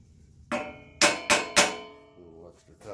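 A hammer taps a key into a pulley keyway: four sharp, ringing metallic strikes, the last three in quick succession, each decaying briefly in an otherwise quiet space.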